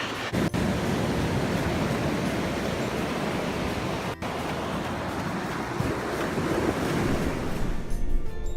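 Pacific Ocean surf at low tide rolls in a loud, steady wash of breaking waves, heavily mixed with buffeting wind noise against the microphone, continuous with no speech.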